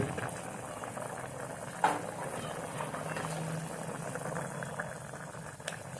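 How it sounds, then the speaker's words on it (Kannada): Olan curry bubbling steadily in a pot, a continuous close boil with a faint lid-like knock near the two-second mark and no voices. "ನೋಡಿ ನೋಡಿ ಏನ್ ಕುದಿದೆ"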